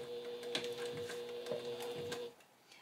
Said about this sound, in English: I'm back stitching here.